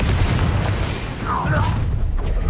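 Confringo fire spell exploding in Hogwarts Legacy, a dense low-end boom rolling through a sustained rumble with a brief crackling burst near the middle, loud and continuous across the short stretch.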